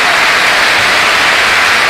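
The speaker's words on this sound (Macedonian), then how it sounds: "Значи еве со аплауз се оддава таа почит за оние млади луѓе." Stadium crowd at a football match applauds in tribute, a dense, continuous wash of clapping heard from within the stands with no voices standing out.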